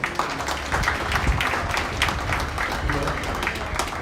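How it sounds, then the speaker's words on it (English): Applause from the crowd at a county junior livestock show, honoring the top four exhibitors; a dense, steady wash of clapping fills the whole stretch at moderate level, with a loud rumbling room undertone beneath. "Give them all a round of applause"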